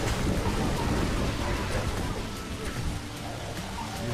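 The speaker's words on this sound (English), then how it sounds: "Rain and speed again." Steady rain with rumbling thunder in the video game Zombie Driver HD, a dense, loud wash of noise running throughout with a low rolling rumble underneath and game sounds mixed in.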